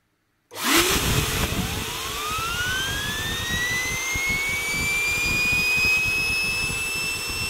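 A Ford 6610 tractor turbocharger spun up by a blast of compressed air, starting abruptly and rising into a loud, steady, high whining howl that holds for several seconds, close by and alone.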